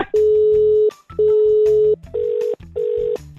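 A telephone line gives repeated electronic tones after a call is cut off: four loud, even beeps separated by short gaps, with the last two set slightly higher in pitch.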